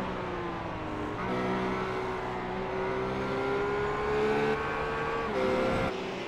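Race car in a racing video game at Watkins Glen, engine tone sweeping as it brakes and shifts down, with a sharp pitch change near the end, moderately loud and steady with no talking.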